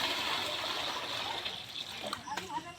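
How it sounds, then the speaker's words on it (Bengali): Water poured into a basin at a home birthday celebration, a close splashing gush that trickles and splatters, with people talking over it. "জলটা দিয়ে দিই গামলাতে।"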